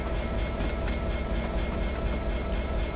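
Train passing in Train Simulator 2017 on the Settle to Carlisle line, a loud, steady rumbling roar with a faint rhythmic pulsing, close and continuous throughout.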